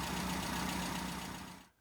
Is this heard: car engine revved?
yes